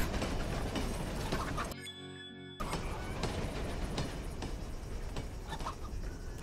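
A train rolls past in the Western stealth game Desperados 3, a loud, continuous rumbling wash with steady clanking pulses, briefly cut to near-silence before the noise returns.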